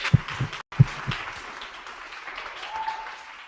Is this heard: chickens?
no